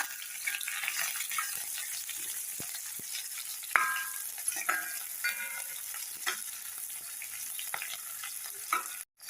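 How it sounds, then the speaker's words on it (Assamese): Whole cardamom, cloves and two cinnamon sticks fry in hot oil for an Assamese papaya mutton curry, giving a steady close sizzle with light stirring scrapes and small pops throughout. "তেলতে গৰম মছলা অলপ দি দিওঁ, ইলাচি, লং, ডালচেনি দুটা।"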